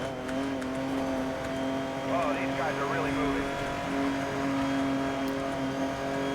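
Car racing at high speed in Need for Speed: Most Wanted (2012), a steady engine drone with shifting pitch held throughout under a game soundtrack, with police in pursuit.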